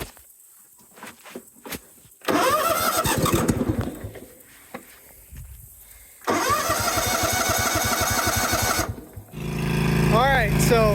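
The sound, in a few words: John Deere GT245 lawn tractor engine starting after choke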